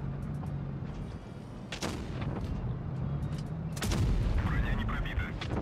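Tank cannons boom in the mobile game World of Tanks Blitz, with several sharp shots and blasts going off over steady engine rumble and battle noise.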